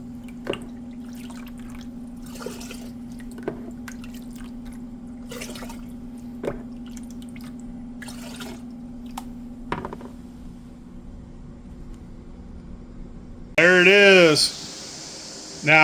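Homemade maple liqueur drips and trickles into jars in a quiet room, with scattered small drops over a steady low hum, ending in a brief louder squeaky rush.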